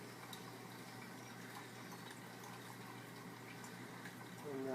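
A Bellman CX25 stovetop espresso maker brews on the stove, giving a steady, close hiss and gurgle of pushing liquid with faint crackles that swells slightly near the end.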